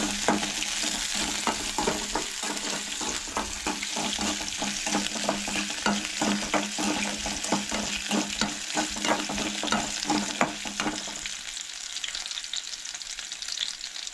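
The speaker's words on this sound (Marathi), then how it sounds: "तेज्या उपरांत आलें, लसूण तेन्ना बरें परतून घेवंक जाय." Ginger and garlic sauté in hot oil with a steady sizzle and frequent stirring clatter, close and continuous for most of the stretch, then the frying softens near the end. No talking.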